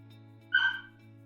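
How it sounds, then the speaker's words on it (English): A dog gives a single short, fairly faint yelp or whimper in a quiet room, lasting about a quarter second over a low steady hum. "That was my dog."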